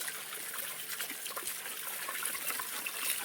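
Irrigation water runs into the beds of a tomato field, a soft steady trickle and gurgle nearby with small splashes and no voices.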